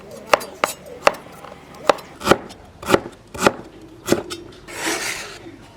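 Sharp knife strikes on a cutting board as pickled chili, garlic cloves and ginger are chopped in a home kitchen, about ten distinct irregular chops, close and clear, with no voices, ending in a brief scraping sweep.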